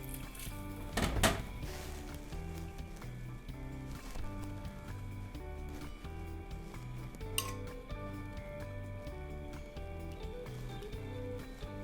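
Bacon aglio olio pasta is plated onto a dish, with a few faint utensil clinks and scrapes under steady background music.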